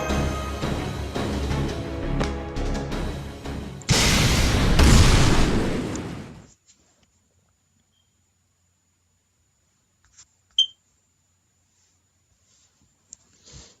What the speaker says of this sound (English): Beast 2 is going to explode.